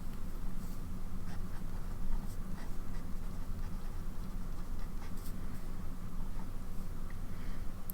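A fountain pen filled with Montblanc Irish Green ink scratches steadily across paper in continuous, fine strokes for several seconds, close and alone, with no talking.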